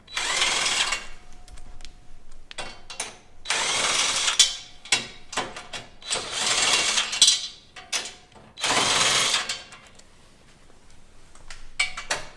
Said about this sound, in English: I like to use an impact driver, 14 millimeter, and these things come off pretty quickly